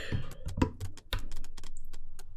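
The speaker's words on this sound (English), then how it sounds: "That clicking you hear is just the throttle detents" A series of sharp, dry clicks from an aircraft's throttle detents in a Cessna T-37 Tweet cockpit, irregular at first and then closely spaced, against a quiet background with no talking.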